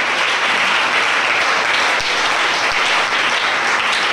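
A church congregation at a worship service bursts into loud, sustained applause and cheering, a dense continuous wash of clapping that holds steady throughout without letting up.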